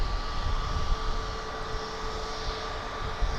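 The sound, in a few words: American Airlines airliner, flight 520 to Phoenix, passing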